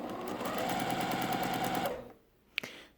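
A sewing machine stitches small quilt pieces in a steady close whir for about two seconds, then stops, followed by a single sharp click.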